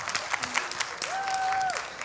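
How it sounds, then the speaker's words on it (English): A church congregation applauds the children after a week of vacation Bible school, a steady patter of many hands with a brief voice rising over it. "So give your kids a hand clap."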